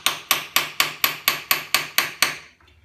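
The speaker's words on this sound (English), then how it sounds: "I'm going to move the socket more towards the back and tap on the back part of it." A hammer taps a 32mm socket to seat a countershaft seal: ten sharp, evenly spaced metallic strikes up close, about four a second, then silence.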